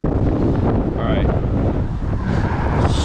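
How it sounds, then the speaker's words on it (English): Heavy wind with 40 mph gusts at a beach buffets the microphone in a loud, continuous roar, with gusty rumble throughout and a brief voice-like fragment buried in the noise. "Super, super windy. 40 mile an hour gusts."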